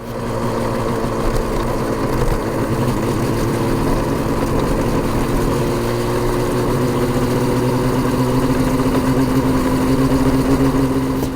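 A Yamaha RD 350 two-stroke motorcycle runs steadily on the way onto a motorway, its engine drone continuous and close with a slowly rising pitch, no talk over it.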